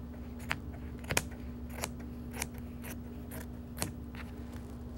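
Sharp scissors work through apron fabric in a series of crisp, close snips spaced about half a second apart, steady and unhurried against a quiet background hum, with no talking.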